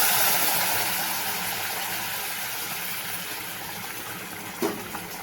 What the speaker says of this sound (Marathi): आता हे गरम पाणी टाकते मी।